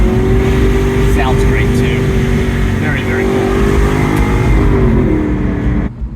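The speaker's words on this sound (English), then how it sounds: "Nice V8 growl." An Aston Martin V8 Vantage S with an automatic gearbox growls steadily while driving on the road, a loud, close, continuous engine drone with rising and falling pitch.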